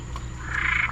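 A frog, a bullfrog or Cuban tree frog, gives a short croaking call, fairly faint against a steady background hum.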